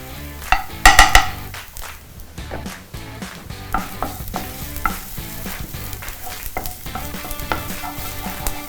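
Onions and garlic fry in a pan for a cabbage dish, a steady close sizzle broken by a few sharp stirring scrapes and clinks near the start and occasional utensil taps throughout.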